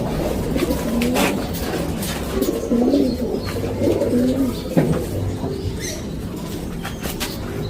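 Low, soft cooing from pigeons repeats in short phrases across the clip, set against a steady outdoor background hum.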